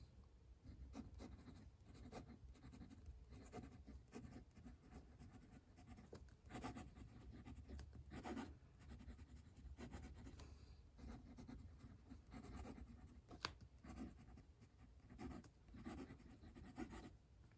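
Nib of a Tom's Studio pocket fountain pen writing deep black ink on paper, a close, soft continuous scratch with repeated pen strokes and small ticks from lifts and dots, steady throughout with no talk.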